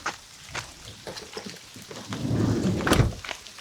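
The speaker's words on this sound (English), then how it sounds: "This is decently sized hail coming down." Hail and freezing rain pour down during a mountain storm, a steady dense patter against a camper van with louder rumbling swells and heavier impacts toward the end, no voices.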